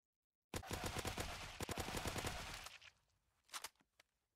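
Gunfire in the war video game Military Tycoon: a rapid, loud burst of automatic shots for about two seconds, then silence broken by a couple of short, sharp bursts near the end.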